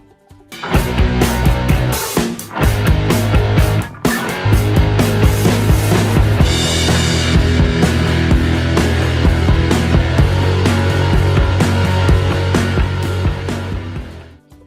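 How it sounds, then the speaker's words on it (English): Loud, dense rock music with pounding drums and heavy distorted instruments, playing continuously with a couple of brief breaks early on. "The sounds you hear during a rock concert are loud."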